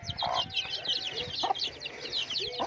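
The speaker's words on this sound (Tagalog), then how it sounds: "So yan yung mga alaga nating mga manok guys." Pet chickens kept indoors in a cardboard box cluck repeatedly at close range, with short bursts of clucks and chirps overlapping in a busy, uneven rhythm.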